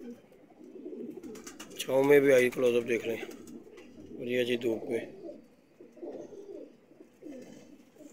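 Teddy pigeons in a breeder setup coo in soft, repeated throaty phrases, clear and close, while someone talks over and between the calls.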